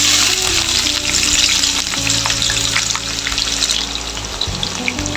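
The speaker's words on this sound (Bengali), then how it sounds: "এই কড়াইতে দিয়ে দেবো সাদা তেল এখন আমি দিয়ে দেবো রসুন কুচি" Minced garlic sizzles hard in white oil in a wok, a loud, dense, steady frying hiss with small crackles and stirring scrapes throughout.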